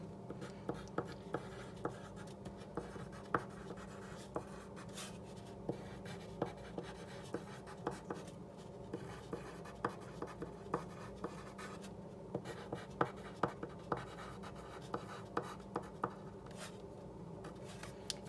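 Pen scratching steadily across paper while a bucket filler note is written, soft continuous scraping with frequent small taps from letter strokes, close and alone with no talk.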